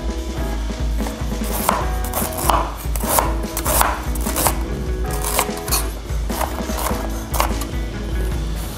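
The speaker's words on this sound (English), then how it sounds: "So now we're gonna cut the ginger into big pieces." A knife chops ginger into big pieces on a cutting board, steady close rhythmic thuds repeating about twice a second over background music.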